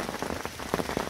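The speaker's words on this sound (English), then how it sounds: "a little bit of a vid for the old rain tapping it down" Rain tapping down steadily during a carp fishing trip outdoors, a dense close patter of drops on a surface, continuous and even, with no one talking.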